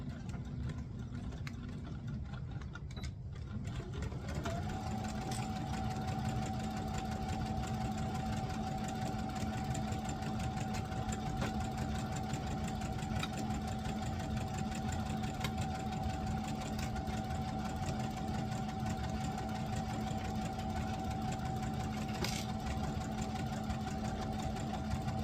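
A sewing machine stitches a sleeve seam for a Simplicity 9136 garment, a continuous close mechanical whir and knock that speeds up after a few seconds and holds steady, with no talk.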